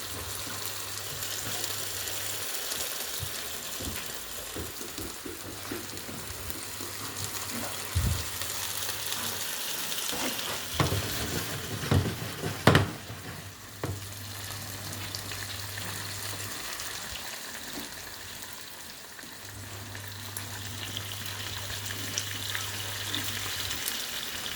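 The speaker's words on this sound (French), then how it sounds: "les champignons n'ont pas encore assez sué. On va les laisser suer tranquille." Mushrooms sweat and sizzle in a frying pan, a soft steady frying hiss with occasional stirring scrapes and clatters near the middle, heard close with no talking.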